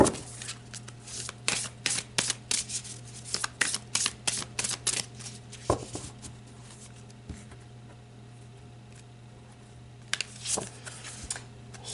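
Tarot cards being shuffled by hand in quick bursts of riffling snaps, close up, followed by a quieter pause and a couple of final slaps of the deck.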